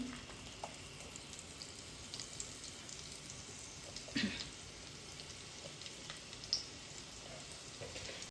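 Chopped garlic with turmeric frying in oil in a clay pot, a soft, steady crackle and sizzle held low and even, with a couple of louder pops and stirring clinks.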